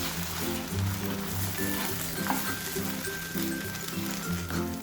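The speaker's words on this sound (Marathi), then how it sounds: "कांदा, काजूची पेस्ट, थोडंसं आपण परतून घेऊ।" Onion and cashew paste sautéing in a pan for chicken malai tikka, a steady close sizzle with occasional soft stirring scrapes and faint clinks, continuous throughout.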